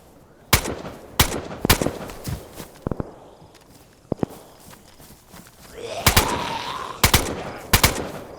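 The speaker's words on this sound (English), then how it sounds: "Pretty good gunfight over that way." Gunfire from a gunfight in the video game DayZ on the Livonia map, sharp cracks arriving singly and in quick pairs at irregular intervals, with a faint rumbling background between shots.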